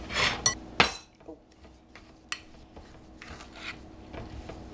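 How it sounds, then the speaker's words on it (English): Brown sugar and butter creamed together in a bowl, with a few loud clinks of a utensil against the bowl at the start, then softer intermittent scraping and rubbing strokes, near and quiet. "we're going to cream the brown sugar and the butter together."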